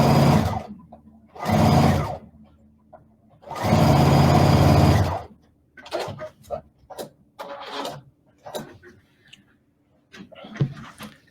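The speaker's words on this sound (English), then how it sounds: "I start with my needle down. I'm singing and sewing." A sewing machine stitches log cabin quilt blocks with the needle down, running in three loud bursts of varying length, then giving way to shorter stops, clicks and fabric handling.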